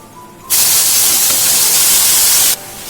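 Grated carrots for carrot halwa hit a hot pan with a loud, steady hiss that starts abruptly, holds strong for about two seconds, then cuts off, leaving quieter kitchen background.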